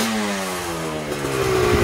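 A KR-1S light aircraft engine runs during a ground run test, a loud continuous droning buzz with a steady pitch that rises slightly near the end.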